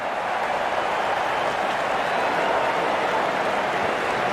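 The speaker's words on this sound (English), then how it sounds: "Wonderful 50 and the crowd applauds." Cricket crowd at an India versus Afghanistan T20 match applauding a batter's fifty, a steady wash of distant stadium clapping and crowd noise holding level throughout.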